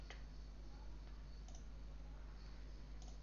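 A few faint, sharp computer mouse clicks are scattered over a quiet electrical hum, with no one speaking.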